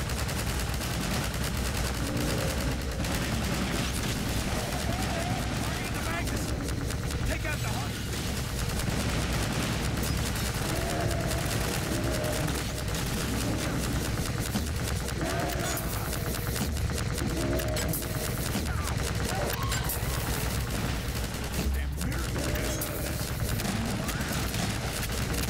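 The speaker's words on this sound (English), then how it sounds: "take cover and start shooting" Half-Life 2 combat with sustained gunfire, a dense, continuous rattle of automatic shots and bursts running the whole time, loud and busy with few pauses.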